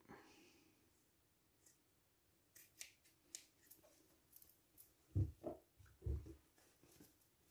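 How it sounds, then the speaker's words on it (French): Scissors snipping away excess fabric and batting while making a pouch for an embroidery hoop, a few soft cuts building to two loud, close snips near the end, with no talking. "on va couper le surplus de tissu."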